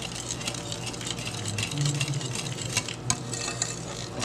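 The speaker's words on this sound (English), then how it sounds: "I'm gonna mix this up a little bit" A spoon stirs homemade pumpkin pie filling in a bowl, making continuous close scraping and sloshing sounds with no voices.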